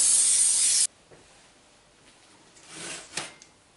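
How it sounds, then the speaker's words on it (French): Cooking spray greases a cake mould in one loud, close hiss lasting under a second, followed by quiet handling and faint rustling sounds. "on va prendre un moule qu'on va graisser. Donc moi c'est de la bombe alimentaire."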